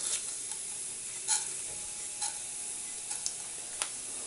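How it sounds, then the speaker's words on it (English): Onion seeds popping and splattering in hot oil, a soft background sizzle broken by a handful of sharp, scattered crackles at irregular intervals. "Onion seeds are splattering nicely."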